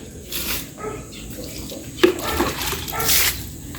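Water poured over sweet potato shoots outdoors, splashing and running in uneven gushes with a sharper splash midway, faint voices in the background.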